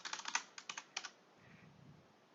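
Quick bursts of typing on a computer keyboard, a rapid cluster of crisp key clicks followed by a few more strokes and then a soft rustle, quiet and close with no speech.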